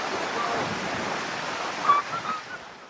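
The flooded, high Labo River rushes past in a loud, steady roar of churning water, with a brief surge near the end.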